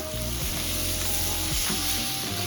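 Boiled fish roe frying and being stirred in a pan, a dense close sizzle running throughout with occasional soft spatula scrapes, alone with no talk.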